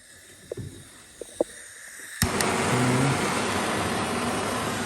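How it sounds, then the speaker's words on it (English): A self-lighting propane torch catches with a sharp click and settles into a steady, close rushing roar, following a few soft taps in near silence. "Self-lighting torch."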